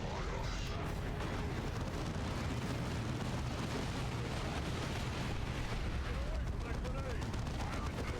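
Grenade blast amid dense battle noise in a Warhammer video game: continuous loud rumbling gunfire and explosions filling the whole stretch, with game voices mixed in.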